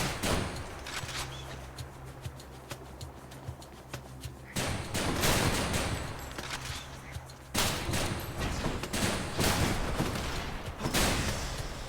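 Shotgun fire in the action game Hades, a dense barrage of close, loud blasts and impacts layered with combat noise, surging in two heavier bursts.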